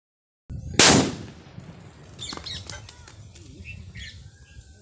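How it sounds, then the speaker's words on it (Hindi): A single sharp, loud firecracker blast from a cello-tape bomb set on the ground bursts out of silence, followed by a fading rumble and a few faint bird chirps. "और अब हम करेंगे इसका धमाका"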